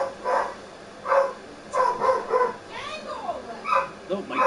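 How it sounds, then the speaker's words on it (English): A dog barks repeatedly in short bursts at something, the barks fairly loud and close with brief gaps between them, while a person talks over parts of it. "dog is barking at something."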